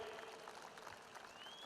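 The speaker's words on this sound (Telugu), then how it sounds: "మీరు కూడా గట్టిగా చప్పట్లు కొట్టి ఆశీర్వదించమని" Audience applause at a public address, a steady dense wash of clapping with no breaks, fairly faint and distant throughout.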